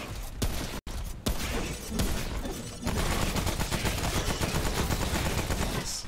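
Sustained gunfire in Remnant: From the Ashes, a loud, rapid fusillade of overlapping shots with a few sharp isolated cracks at the start, then continuous rattling bursts that fill the rest.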